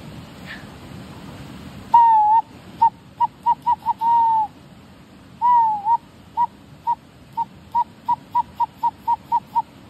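A man imitates bird calls outdoors with clear whistled hoots, first a few longer warbling notes, then a quick run of short, evenly spaced calls, loud and close, with no talking over them.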